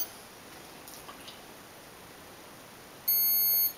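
A brushless ESC on an MJX F645 helicopter fitted with a 3rd-gen PCB gives one steady, high electronic programming beep lasting about half a second near the end, after a stretch of faint hiss.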